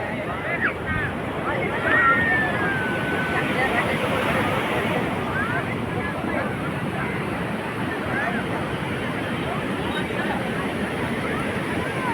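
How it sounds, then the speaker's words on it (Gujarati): Large sea waves at Somnath beach surge and wash in a continuous roar, with wind buffeting the microphone and people talking nearby. "સોમનાથનો દરિયો મોટો જબર મોટા મોટા મોજા આવી રહ્યા છે"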